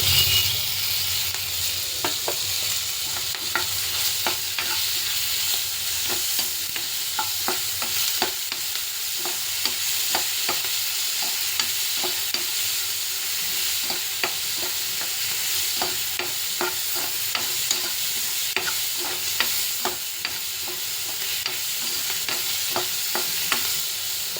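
Tomatoes sizzle steadily in a hot pan while a spoon stirs them in repeated scraping strokes, loud and close throughout with no talking.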